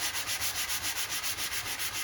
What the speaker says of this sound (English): very light sanding is what is needed here